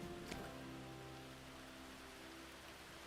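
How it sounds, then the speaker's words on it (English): Light rain falls in the video game Planet Coaster 2, a faint, steady patter with soft background tones from the game running underneath, continuous and quiet with no one speaking. "I hear rain, it sounds like, in the game"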